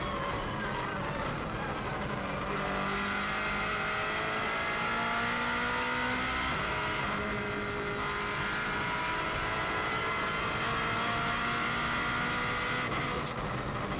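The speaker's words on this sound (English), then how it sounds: "You can see how much quicker this car accelerates from the 120 right the way through to 170." A Subaru WRX STI race car roars hard and close as it accelerates on the Isle of Man TT course, its engine note climbing steadily through the gears with loud continuous wind and road noise.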